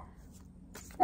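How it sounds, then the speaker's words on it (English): A single sharp dog bark bursts out at the very end, after about a second of quiet, low background noise. "just as the dog is barking"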